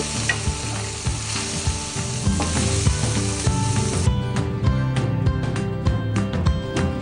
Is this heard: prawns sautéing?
yes